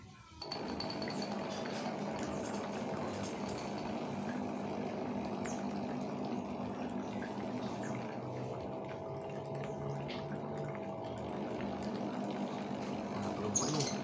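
A mains-powered aerator pushes air into water for culturing Paenibacillus polymyxa bacteria, giving a steady, continuous bubbling and gurgling hum that stays even and close throughout.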